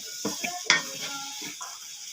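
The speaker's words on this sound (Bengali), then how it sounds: "এখন ভালো করে নেড়ে চেড়ে আবারও 5 মিনিট ভেজে নেব" Rice biryani with fried eggs being stirred and fried in a pan, giving a soft scraping of the utensil, a few clinks and a light, steady sizzle in a quiet kitchen.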